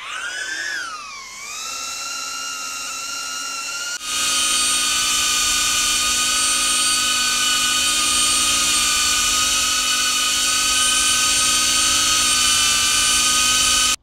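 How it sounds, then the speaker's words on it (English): A DJI Avata 1 FPV drone hovers nearby with a loud, piercing high-pitched whine, its tone sweeping briefly before settling into a steady, slightly rising scream that holds to the end. "saving the best for last, the very squirrely sounding Avata 1."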